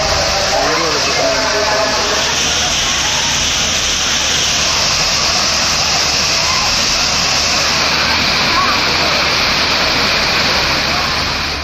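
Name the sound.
Thirparappu waterfall rushing water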